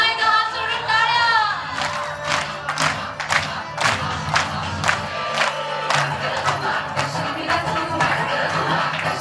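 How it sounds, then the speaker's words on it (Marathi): Guests at a baby's naming ceremony clap their hands together in a burst of crowd applause with cheering and excited shouting, loud and close, continuing for several seconds. "पुन्हा एकदा हात सोडून टाळ्या."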